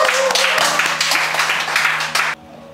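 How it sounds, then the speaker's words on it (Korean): Audience applause at a Won Buddhist lecture event on gender equality, a broad wash of clapping filling the hall for over two seconds before cutting off abruptly, with a steady low tone beneath. "큰 박수를 맞아주시기 바랍니다."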